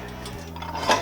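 Meat flipped on a Tagwood BBQ grill, a brief close clink of a metal utensil against the grate, with a faint sizzle and scrape, no voices.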